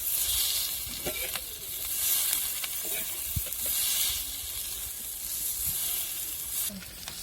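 Onion and green chillies frying in a pan over a wood-fired stove, a continuous loud hissing sizzle that swells and ebbs, with occasional spatula scrapes and taps.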